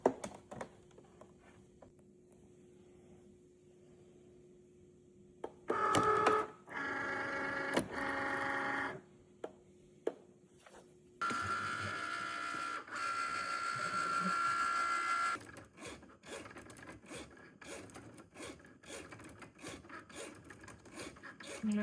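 A Cricut machine cutting vinyl sticker paper whirs and rasps in bursts, with carriage movements, short grinding passes and mechanical clicks separated by quieter pauses.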